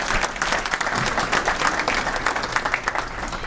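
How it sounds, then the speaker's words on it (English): A room full of attendees at an economic outlook event breaks into steady, dense applause, many hands clapping at an even level throughout, with no talking over it. "Yes, we can clap, absolutely, yes."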